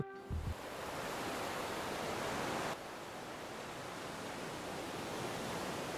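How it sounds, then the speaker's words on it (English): Distant ocean waves at Venice Beach make a steady, soft broadband wash with no distinct breaks, dipping slightly in level partway through, with no voices. "knowing Venice Beach, those waves are kind of far away"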